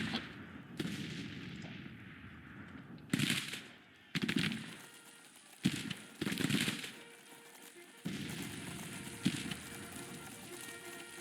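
Scattered Civil War musket and artillery fire in a Grand Tactician battle for Nashville, heard as distant cracks and rumbling volleys over a steady battle din, with abrupt cuts between bursts.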